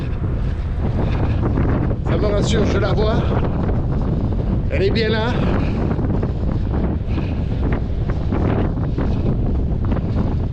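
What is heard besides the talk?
wind blowing on a hilltop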